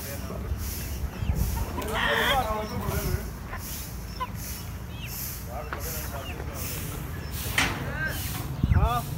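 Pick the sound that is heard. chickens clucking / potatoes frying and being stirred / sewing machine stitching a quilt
chickens clucking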